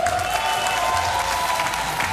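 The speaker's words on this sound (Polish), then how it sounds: "wielkie brawa za to" Steady, dense applause from a crowd at an ice-dancing show fills the whole stretch, loud and continuous without pause.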